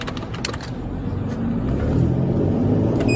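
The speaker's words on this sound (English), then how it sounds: "We can see the Lamborghini speeding ahead, being followed by the officers." A stolen Lamborghini speeds ahead of police during a high-speed chase, its engine a steady, loud roar that builds slightly over a few seconds, close by and alone without talk.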